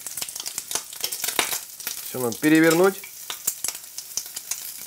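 Bacon fries hard in a kazan with a loud, steady sizzle and spitting crackle, close up throughout, while someone briefly speaks over the pan partway through.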